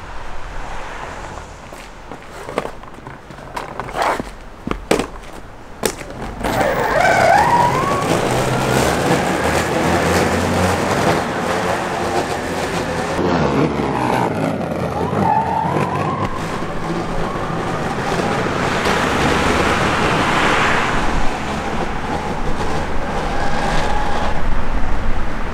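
Electric skateboard with a hub motor ridden along, coasting with the throttle off and then powering up again, a steady rolling whir and road noise that holds loud and continuous after a few scattered knocks at the start.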